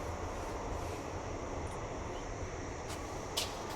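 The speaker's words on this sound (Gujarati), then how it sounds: "અહીં પર ટ્રેન જાય છે" A train passes near a residential neighbourhood with a continuous, heavy rumbling roar that holds steady throughout, with a brief faint squeal near the end.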